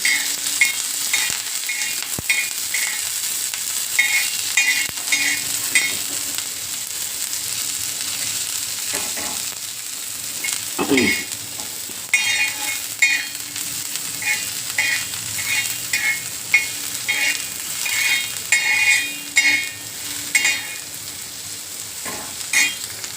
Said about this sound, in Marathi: कांदा परततोय